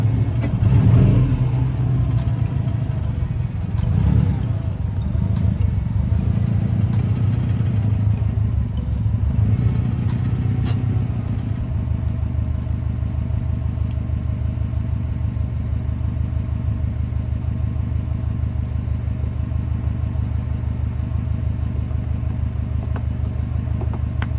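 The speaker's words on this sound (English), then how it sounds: "let's see how close I get to when I actually back into my garage." A 2016 Subaru WRX fitted with an aftermarket front lip idles and creeps in reverse into a garage, a steady low engine rumble with a brief rev near the start, close and continuous with no talking.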